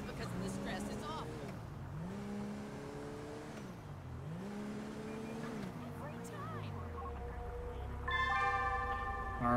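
Car driving in GTA 5 with the LSPDFR mod, its engine note rising and falling through gear changes at a steady cruise as a person talks over it.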